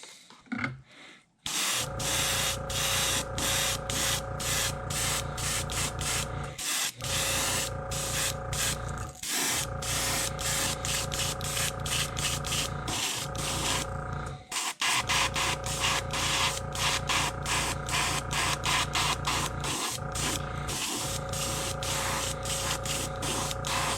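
An airbrush sprays paint onto a crawfish crankbait fishing lure, giving a steady close hiss over a constant mechanical hum and rapid even pulsing, broken by a few short pauses and restarts.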